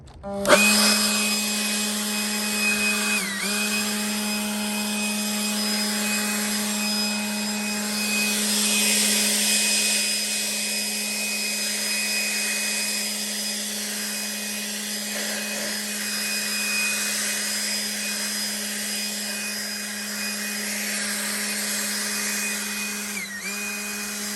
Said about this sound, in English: I'm going to use my turbo blast on this Ryobi